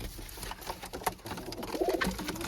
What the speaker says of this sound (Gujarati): તમે જુઓ આ છે બધા કબૂતર